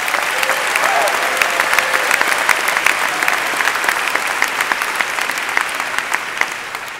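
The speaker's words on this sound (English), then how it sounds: "Let's give our teachers a round of applause." An audience applauds teachers during a Long Beach, California State of the City address, with loud, continuous clapping from a large crowd that keeps going for about seven seconds and fades slightly toward the end.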